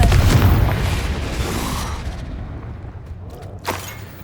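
Confringo fire spell exploding in Hogwarts Legacy, a loud booming blast that rumbles and decays over a few seconds, followed by a shorter sharp burst near the end.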